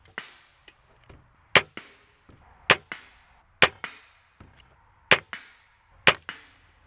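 Arrows fitted with an Afflictor K2 fixed broadhead strike a target one after another in a durability test, giving a series of sharp, dry smacks at irregular intervals, each loud and distinct against near silence.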